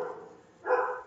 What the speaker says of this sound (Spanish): ahí el perrito está haciendo su show